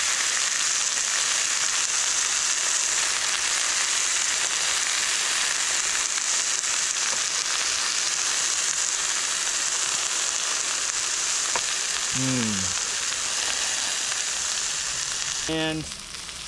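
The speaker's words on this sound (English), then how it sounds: "Oh, hear that sizzling." Steaks fry in a pan at a lake island canoe campsite, giving a loud, steady, crackling sizzle that runs unbroken throughout, with faint knocks near the end.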